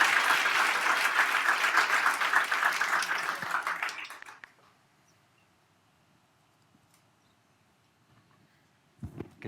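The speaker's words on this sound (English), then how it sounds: "Big round of applause." Audience applause at a coding bootcamp demo day in London: a loud, dense burst of clapping for about four seconds that fades out, then near silence before a brief rustle.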